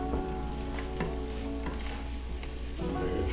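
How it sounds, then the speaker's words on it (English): Sausage gravy bubbles and sizzles in a pan after flour is sprinkled in, a dense, continuous frying hiss with a low hum beneath and occasional soft stirring clicks. "And it starts sizzling even more."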